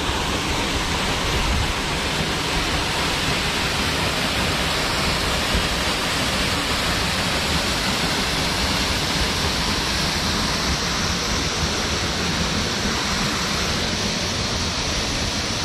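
Tibu Sampi waterfall, a small fall about seven to eight meters high in Gunung Salak village, Tabanan, Bali, pours in a constant dense roar of rushing water, loud and close, steady throughout with no voices.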